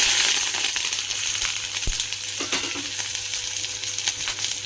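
Mustard seeds, onion and curry leaves hit hot oil for a bittergourd thokku, crackling and sizzling loudly up close, with sharp popping spits and a clink around the middle.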